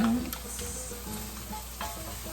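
Chopped garlic and onions sizzle in a pan for tomato sauce, a close, steady frying crackle with stirring scrapes and clinks throughout, no voices.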